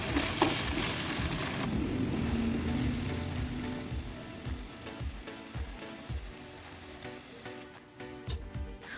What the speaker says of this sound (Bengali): এবার কড়াইতে তেল দিয়ে ফুলকপিগুলোকে লাল লাল করে ভেজে নেব।